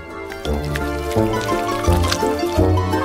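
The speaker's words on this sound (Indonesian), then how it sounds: "Aku akan mengumpulkan coklat ke dalam kaleng." Melted chocolate pours into a can up close, with thick, gurgling splashes and drips, while music plays in the background.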